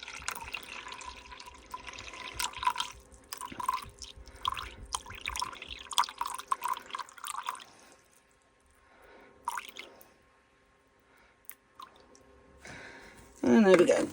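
Water trickling and dripping from a tap into a container to be weighed out for an eco-resin mix, in irregular bursts with pauses, ending in a louder splash.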